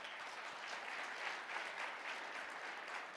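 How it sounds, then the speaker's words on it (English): Audience at a conference session breaks into a sustained round of applause, dense steady clapping from a large crowd at even loudness throughout, with no one speaking over it. "Round of applause."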